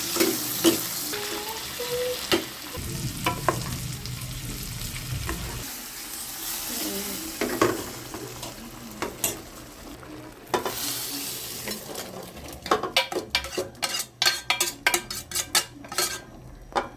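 Shrimp fry in orange-tinted oil for monggo, giving a steady sizzle broken by utensil scrapes and pan clinks, with busier clattering stirring toward the end.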